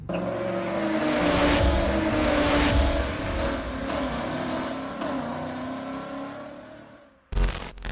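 A Ram TRX pickup truck engine runs steadily and loudly for several seconds, rising slightly as it revs, then cuts out abruptly near the end.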